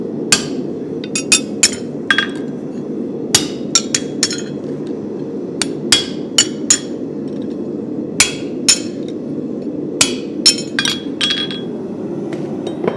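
A farrier hammers a spavin horseshoe while stamping nail holes, giving rapid bright metallic clinks in irregular bursts over a steady low roar, likely a forge fire.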